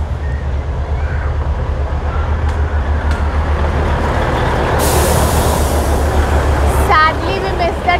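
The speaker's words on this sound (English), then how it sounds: "So the train is coming," A train rumbles past nearby at Matheran hill station, India, with a loud, steady low drone and a brief hiss of air brakes, high squeals rising near the end.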